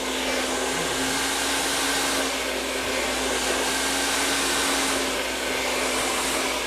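A hair dryer blows steadily and loudly throughout while hair is blow-dried, a constant close whooshing drone with a faint motor whine and no speech.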